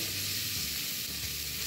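Garlic cloves and onion sizzle steadily in olive oil in a pot, a continuous bright frying hiss that holds close and even throughout, with no voices.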